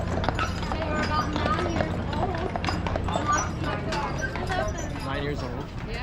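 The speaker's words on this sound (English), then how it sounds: "Horses, you're so cute." Horse hooves clip-clopping on a street on Mackinac Island, a steady brisk rhythm close by, mixed with lively crowd chatter and people talking over it.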